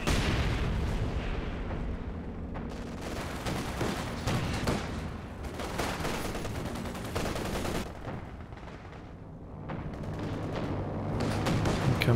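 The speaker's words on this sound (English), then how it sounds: "Comes a bombing run, taking out the Pak 43." Bombing run explosions in Company of Heroes 2 during a 2v2 match: a dense, loud barrage of booms and rattling gunfire that runs continuously, with heavy blasts rising and falling throughout.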